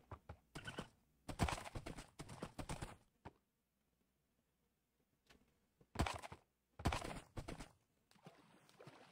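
Hooves of a saddled horse clip-clop in a video game, several quick bursts of steps, a pause with faint taps, then more rhythmic bursts, moderately loud and with no talking.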